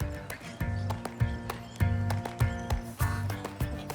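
A young horse being ridden over jumps: hoofbeats thud and clatter in a steady rhythm close by, with occasional snorts and a whinny-like note, heavy landings punctuating the stride.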